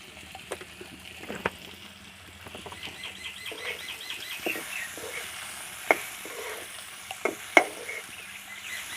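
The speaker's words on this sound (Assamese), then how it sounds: "অকণমান ভাজি দিওঁ।" Pork frying with turmeric and salt on a lowered flame, a soft steady sizzle broken by stirring scrapes and occasional sharp spatters and pops, close and fairly quiet.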